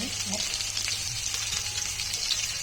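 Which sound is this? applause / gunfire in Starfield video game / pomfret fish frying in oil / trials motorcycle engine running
pomfret fish frying in oil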